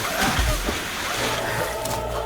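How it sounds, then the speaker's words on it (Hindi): Water sloshing and splashing as a person is held under and drowned, a heavy splash near the start followed by churning, with raised voices over it. "इसे पानी में डुबो के मार देते हैं।"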